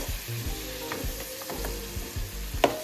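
Curry beef ribs are stirred in a pot, producing a gentle sizzle with scraping spoon strokes against the metal and a sharp clink near the end, under a low musical hum.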